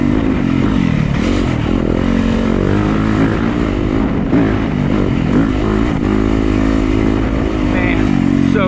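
Yamaha YZ250FX dirt bike, a 2015 model, ridden on technical and flowy terrain, its engine droning and revving loudly and steadily throughout, close to the rider, with a voice talking over it.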